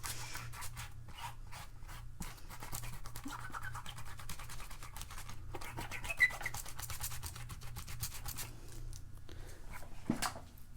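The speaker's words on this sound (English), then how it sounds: "Just go ahead and remove all this masking fluid." Masking fluid rubbed and peeled off watercolor paper in a beach coastal painting, giving continuous close scratchy rubbing with small crackly bursts and no talking.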